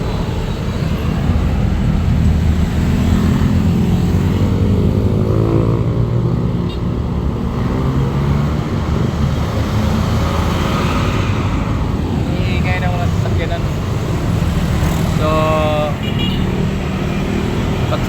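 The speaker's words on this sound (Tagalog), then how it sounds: "So ang ingay talaga guys. Highway kasi ito." Constant loud highway traffic roar from vehicles passing close by, with engine drone and swells as cars and trucks go past, filling the whole stretch without pause; no one speaks over it.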